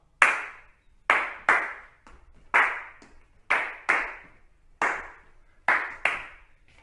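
Sharp hand claps ring out alone in a steady, evenly spaced series, about ten crisp claps with short pauses between them, during a preschool classroom game.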